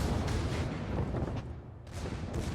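Tirpitz battleship main guns firing a salvo in World of Warships, deep booming blasts with rumbling low-end roar that swells and fades, with a second burst near the end.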